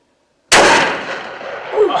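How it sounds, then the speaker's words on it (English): A single loud rifle shot cracks out on a deer hunt after a moment of silence, then booms and echoes outdoors for over a second. "Dang good shot."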